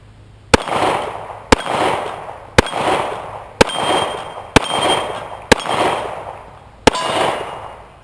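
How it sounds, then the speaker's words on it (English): Seven sharp, loud gunshots from a Dan Wesson ECO .45 1911 pistol firing Freedom ammunition at an outdoor range, spaced about a second apart, each crack followed by a brief ringing decay. "Dan Wesson ECO, shooting Freedom ammunition."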